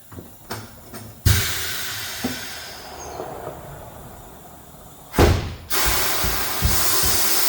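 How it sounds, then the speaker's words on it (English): Sharp bursts of escaping air from a truck's pneumatic system with an air leak, two loud hissing blasts standing out over a steady background wash of air. "So I just deal with the air leak."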